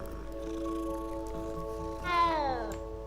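Cats meowing in Hogwarts Legacy, a sustained tonal meow that rises then bends downward into a longer falling cry, over a low steady background hum.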